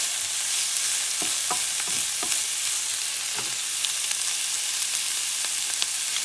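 Sweet pepper sizzles over high heat in a pan. A dense, even frying hiss runs throughout, broken by several sharp scrapes and knocks as it is stirred.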